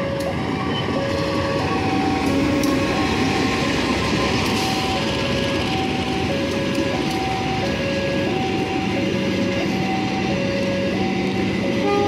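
A passenger train rolls into Gombong station in Kebumen, Indonesia, with a steady mechanical roar and rattle, while a repeating two-tone chime sounds throughout.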